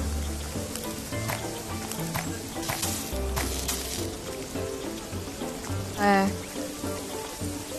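Steady crackling sizzle of souvlaki meat skewers cooking over an open fire, with scattered pops and a brief louder burst near the end, faint voices underneath.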